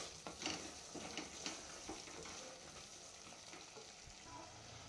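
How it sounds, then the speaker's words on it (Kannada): Masala sizzling and frying in a hot pan for egg pulao, a steady crackling sizzle with scattered stirring scrapes and clinks, close and moderately loud with no voices. "ಮಸಾಲೆ ಕೂಡ ಚೆನ್ನಾಗಿ ಫ್ರೈ ಆಗಿದೆ."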